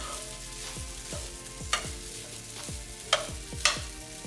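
Fried rice being turned with a metal spoon or spatula, a soft sizzle beneath repeated scraping strokes and a few sharp metallic clinks against the pan, close up and fairly quiet, no voices.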